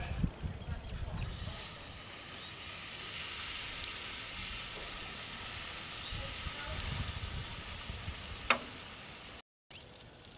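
Cornbread batter of white cornmeal mix, powdered buttermilk, whole milk and canola oil hits a hot cast iron Dutch oven, setting off a steady, close hiss of sizzling that runs through most of the clip with a brief dropout near the end.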